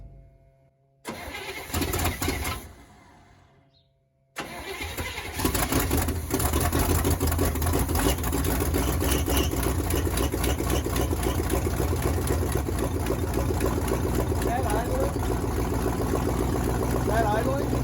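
A 1979 Chevy C30 truck engine with sticking carburetor floats cranks and catches after a brief pause, then settles into a steady, loud rumbling idle that runs on continuously.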